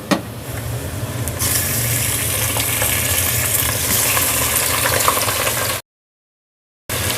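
Mutton frying with golden onions in a pot over low heat makes a loud, steady sizzle that stops abruptly near the end and then resumes, with no talking.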